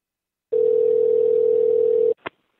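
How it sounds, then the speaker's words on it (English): A single telephone ring tone comes through on a radio show call, one steady electronic tone of about one and a half seconds followed by a short click. "Now it's ringing. I hear ringing in my headphones."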